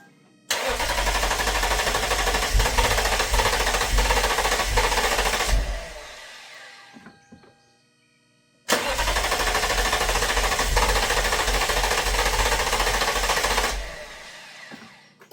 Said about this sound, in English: we're going to go ahead and crank the vehicle until it dies so that we can release the fuel pressure